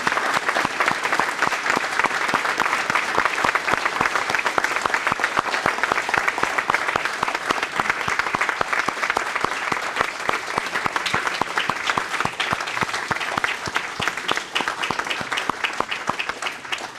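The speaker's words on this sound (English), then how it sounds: "And one more time, a round of applause for all of these 23 recipients of Quilts of Valor." Sustained audience applause at a Veterans Day ceremony honoring Quilts of Valor recipients, a dense, steady wash of many hands clapping at full volume throughout, with no talk over it.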